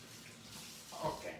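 Tap water running while washing up by hand in a kitchen, a steady soft hiss of flow with a slightly louder splash near the end, faint and close.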